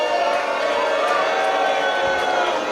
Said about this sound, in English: this crowd's gonna let Channing Thomas know how they feel